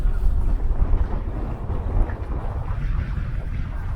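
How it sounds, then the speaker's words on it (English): Wind rising over a sailboat, a steady, loud rush and buffeting close to the microphone with no clear breaks. "Wind's picking up a bit."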